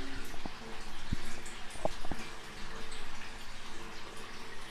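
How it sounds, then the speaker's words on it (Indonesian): An aquarium water pump keeps water flowing in a comet goldfish tank. A steady, close watery rush runs throughout, broken by a few small drips and plinks. "Ini pompa air yang bisa kita gunakan untuk membuat air terus mengalir supaya ikan komet ini merasa hidup di habitat aslinya."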